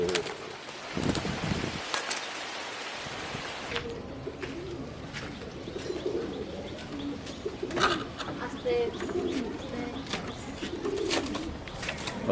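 Pigeons cooing softly among rustling and light scuffling as people try to catch them, with people talking nearby throughout.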